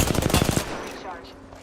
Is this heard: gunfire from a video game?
yes